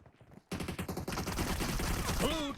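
Rapid bursts of gunfire in the mobile battle royale PUBG Mobile, starting abruptly after a short quiet lead-in and continuing as dense, loud, overlapping automatic fire, with a few high sweeping tones near the end.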